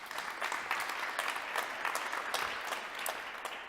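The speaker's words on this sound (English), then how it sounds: "give him a warm round of applause" An audience at a policy discussion panel applauds a guest being invited onto the stage, a steady patter of clapping at moderate distance, fairly quiet and even for a few seconds.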